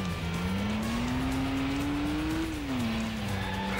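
Video game car in Stuntman on PS2 whipping through a handbrake turn, a steady engine tone rising in pitch then dropping, with a continuous tire squeal hiss over the whole turn.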